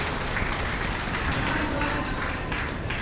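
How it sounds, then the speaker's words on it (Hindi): Audience at a Hindi kavi sammelan poetry gathering in Rudauli breaking into sustained, dense applause, many hands clapping continuously at close range throughout. "एक बार जोरदार तालियां डॉक्टर मानसी जी के लिए बजाइए"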